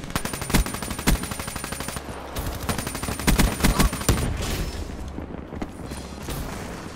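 Rapid automatic gunfire in the video game Black Ops 3, loud, close bursts of repeated shots with a few heavier booms, thinning out toward the end.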